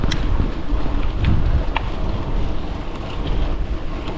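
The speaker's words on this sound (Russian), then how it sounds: "Интересно, как камера с ветром справляется. Ветер сильный." Strong wind buffets a camera microphone while cycling, giving a constant loud rumbling roar across the whole stretch, with no speech.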